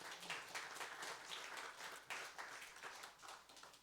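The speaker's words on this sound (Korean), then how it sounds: "하나님께 영광의 박수를 드리시기 바랍니다" A church congregation claps in praise during a Sunday sermon, a steady wash of many hands at moderate, slightly distant level, continuous for the whole stretch with no voices over it.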